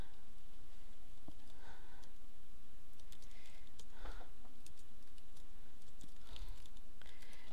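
Someone typing words on a computer keyboard, a fast, uneven patter of close key clicks that runs through the whole stretch, with a few heavier taps standing out, and nobody speaking.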